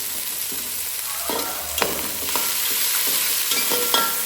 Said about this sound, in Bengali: এবার পেঁয়াজটাকে একটু বাদামি করে নেব